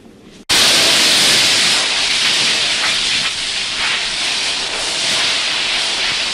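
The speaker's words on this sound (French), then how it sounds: "Preston, tu vas chercher le tuyau, on va le laver au jet" A water hose blasts a strong jet to wash a man down. After a brief quiet moment, a loud, continuous rushing hiss starts abruptly and holds steady and close to the end.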